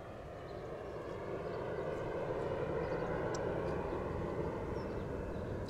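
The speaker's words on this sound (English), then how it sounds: "I love airplanes." A steady, broad engine roar of an airplane passing overhead, continuous and fairly loud throughout with no voices.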